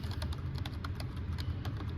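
Rapid typing on a computer keyboard, with quick, irregular key clicks clattering close up and fairly quiet against a low background hum, and no talking.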